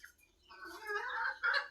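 Chickens, roosters among them, clucking and calling in a short close burst of a few rising notes, with no talk.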